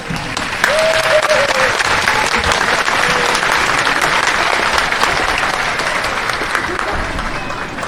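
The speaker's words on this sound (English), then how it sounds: "give yourselves a round of applause" A large crowd at a high school commencement applauds loudly and continuously, with a few faint voices and whoops mixed into the clapping.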